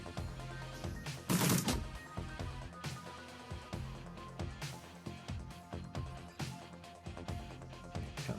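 Gunfire in the tactical game Shadowrun Returns: a series of separate sharp shots and impacts over a musical background, with one louder burst near the start, and no voices.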